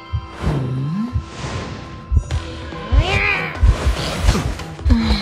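A cat meows several times in the game Identity V, rising and falling cries mixed with whooshing game effects and a low hum, fairly loud and close.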